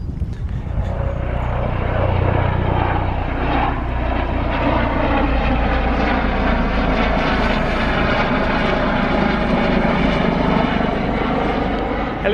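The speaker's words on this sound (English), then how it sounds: "Helicopter." A helicopter drones overhead with a steady, loud engine roar and rotor throb that holds at an even level throughout.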